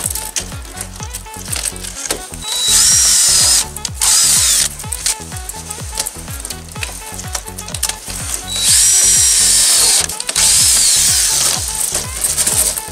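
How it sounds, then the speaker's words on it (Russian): A power drill drives a self-tapping screw into the frame of a house-shaped polycarbonate greenhouse kit. Loud ratcheting bursts come in quick succession, with two long, high-pitched whining runs of the drill, close by and with no voices. "Этим же саморезом, который идет в комплекте, просверливаем"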